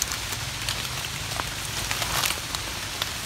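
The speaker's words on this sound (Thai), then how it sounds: "ฝนก็ตกลงมาครับตอนนี้ตกทั้งวันเลยเนาะ" Steady rain falls all day in a rural mushroom-foraging area, a dense continuous patter of drops on surfaces with scattered sharper taps and no voices.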